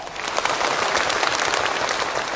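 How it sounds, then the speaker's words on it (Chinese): Steady, dense audience applause fills a theatre at an awards gala for young Yue opera performers in Shanghai, sustained and even throughout with no voices over it. "我们用热情的掌声，感谢1个世纪以来为粤剧事业发展做出贡献的人们"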